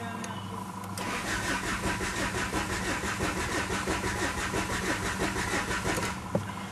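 A diesel Renault Duster's engine cranks steadily with a rapid, even starter rhythm for several seconds without catching, close and loud throughout, with no talking.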